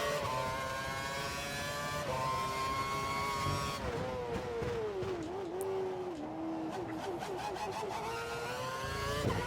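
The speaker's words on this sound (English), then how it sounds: "We think the car behind is running on full revs." High-revving Formula One race car engine in the F1 2012 racing game, a loud sustained whine with harmonic pitch sweeps shifting up and down as gears change, joined by a second engine note partway through.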